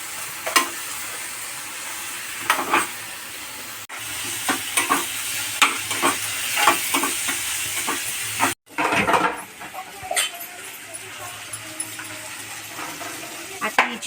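Onion, tomato, ginger and garlic sautéing in a pan for matar paneer gravy, a steady close sizzle broken by repeated scraping stirs, with occasional faint voices in the background.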